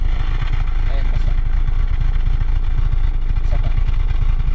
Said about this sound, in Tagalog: kapag open ng makina mo at nagtutubig yung tambucho, ibig sabihin yung engine mo is in the good condition